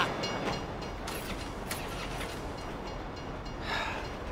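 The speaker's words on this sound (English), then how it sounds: "If you were local, you'd know the train comes by right now." A train rolls past in Grand Theft Auto V, a steady rumble and rattle of rail cars with clacks and brief high squeals, fairly close and without talk.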